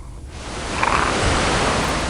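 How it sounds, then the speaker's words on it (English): Ocean waves in a King's Quest remake adventure game: a steady, loud wash of surf that swells slightly and holds as continuous broadband rushing without any talk. "it sounds like the ocean is here"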